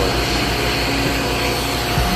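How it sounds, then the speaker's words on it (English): A vacuum cleaner running steadily inside a 2017 Cadillac XT5 SUV during an interior wash and vacuum, a loud continuous broadband whoosh and hum with no voices. "doing a wash and vacuum."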